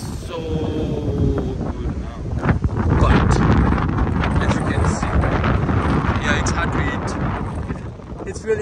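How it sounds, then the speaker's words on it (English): Strong outdoor wind buffets the microphone in a hot, humid spot, a loud continuous roaring rumble with gusting swells that swamps everything else. "I don't know if people can hear my voice or not because it's really windy."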